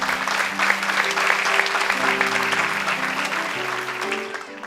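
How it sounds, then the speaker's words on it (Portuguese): A church congregation breaks into sustained, dense applause, full and steady throughout with low organ or keyboard tones holding underneath, fading slightly at the end. "Dê um aplauso ao Senhor"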